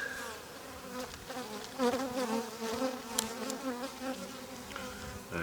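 A swarm of bees buzzes loudly inside an opened hive with brood and a drone on the frame, a dense wavering hum with pitch swells and occasional closer passes.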